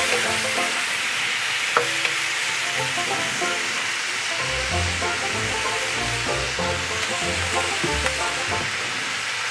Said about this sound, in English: As the prawns start to cook